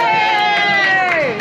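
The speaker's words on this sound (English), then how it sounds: "Studio audience, give us a cheer!" Bar audience cheering aboard the Brittany Ferries ship Galicia, a loud crowd roar mixed with whoops and a drawn-out shout from one voice.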